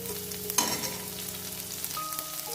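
Garlic sizzling in hot oil in a pan for bhindi masala, a steady close frying hiss with a brief stir or clatter near the start, no voices.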